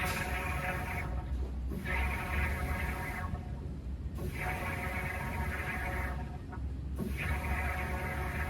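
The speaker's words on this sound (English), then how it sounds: "sounds like there was some bubbling going on coming out of that filler neck" Air bubbles and gurgles out of the gas tank filler neck of an old Dodge Dart being revived, a low continuous churning in the garage that swells and dips in rough pulses every couple of seconds.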